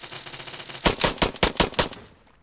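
Rapid bursts of automatic gunfire from the military shooter Arma 3, about six loud, sharp shots spaced evenly over a second, standing alone with no talk and fading into a quiet tail.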